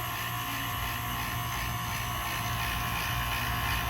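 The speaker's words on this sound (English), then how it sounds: "We're gonna shut off our vacuum, give that thing a break. It was starting to heat up quite a bit." A vacuum pump used to recharge the air conditioning on a 2003 GMC Yukon runs continuously with a steady, loud mechanical whir and hum that stays even throughout.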